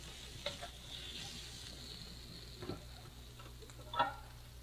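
Scrambled egg and shrimp frying for Pad Thai, a faint, steady sizzle with a few soft stirring clicks and scrapes, no talking.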